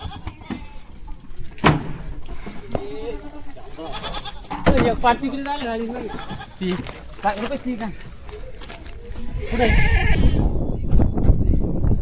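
Kathewadi goats bleating amid a busy livestock sale, a few wavering calls rising over steady talk and handling noise, with a louder burst of bleats near the end.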